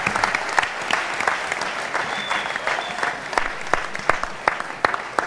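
A crowd claps steadily and continuously at a church service, a dense wash of applause with a few sharper claps standing out, loud and close.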